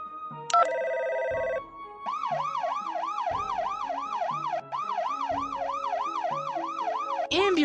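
Wailing ambulance siren in the Android surgery game Live Virtual Surgery, rising and falling in a steady repeated cycle over a light game-music bed, loud and close throughout after a short opening chime.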